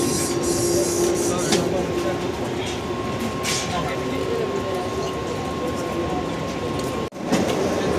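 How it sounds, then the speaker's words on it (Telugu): Vande Bharat train between Katra and Srinagar in Kashmir running just after exiting a long tunnel, a steady loud rumble and hiss heard from inside the coach, with a thin whine and a brief dip near the end, as people talk. "మన ట్రైన్ అయితే బయట వచ్చింది."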